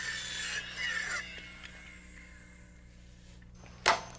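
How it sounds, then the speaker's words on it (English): A wooden rafter tie is cut to length with a hand tool. Short rubbing, rasping strokes come near and fairly quiet early on, then fade, and a single sharp knock lands near the end. "I mark and cut the rafter tie to length and clip it just like the other end"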